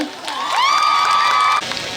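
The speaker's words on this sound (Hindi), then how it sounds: "आप भी उतनी ही इसकी तालियां बजाइएगा" An audience cheers at an Aurat March women's day event in Pakistan: a long, shrill rising whoop carries over a loud crowd roar, then cuts off abruptly.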